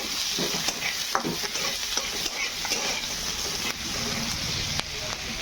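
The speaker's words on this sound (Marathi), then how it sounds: "छान कांदा भाजून घेऊ तळून तेलात." Onion frying in oil with a little salt, a dense continuous sizzle with scraping stirs of a spatula against the pan every second or so, close and fairly loud.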